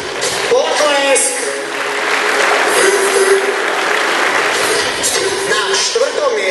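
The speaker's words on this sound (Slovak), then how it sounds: "Potlesk!" Loud applause fills a fitness competition hall as placings are announced, with a dense clatter of clapping across the room, a raised announcer's voice over it and a few sharp whistles or tones.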